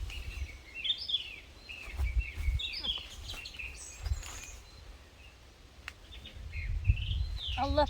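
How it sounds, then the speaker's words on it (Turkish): Several birds chirp and trill in short, scattered phrases over a low rumbling background, some calls close and bright, others fainter. "Burada kuş sesleri çok güzel."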